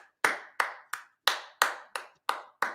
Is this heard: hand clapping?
yes